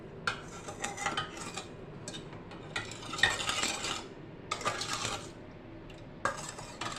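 A maja blanca mixture is stirred in a pot, the utensil scraping and clinking against the metal in irregular bursts, close and moderately loud, with no talking.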